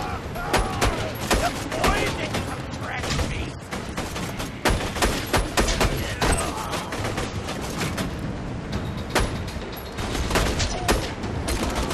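Rapid machine gun bursts in the shooter game Borderlands 2, with loud, dense volleys of gunfire repeating throughout amid a busy battle din.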